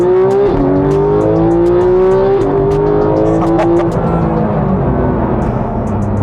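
A Porsche 911 GT3 with a 7-speed PDK transmission accelerates hard, its engine note climbing and dropping through quick gear shifts, loud and close, with some tire noise.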